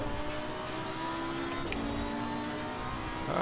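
Race car engine in Assetto Corsa Competizione holds a steady, loud drone throughout, with pitch shifting slightly as the throttle is eased on, no voices over it.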